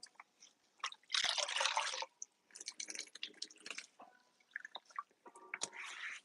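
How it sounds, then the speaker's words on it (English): Water drips and trickles onto dried pottery clay stuck to a surface, in quiet, irregular splashes with brief louder bursts. "Rehydrate some of this clay that's stuck here so I can get it off a little easier."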